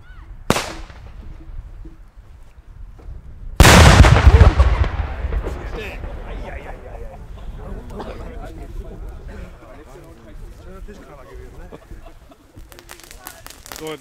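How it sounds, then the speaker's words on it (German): An Italian-style firecracker, an Italien-Böller 500, goes off at a New Year's Eve gathering with one very loud, close bang and a lingering echo, following a smaller crack just before, while people talk around it. "Jetzt kommt ein Italien-Böller 500."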